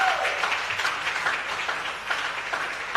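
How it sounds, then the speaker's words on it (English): A TV talent show studio audience applauds steadily for the full stretch, a dense, even wash of clapping with a faint voice or cheer near the start. "A round of applause for Tracy."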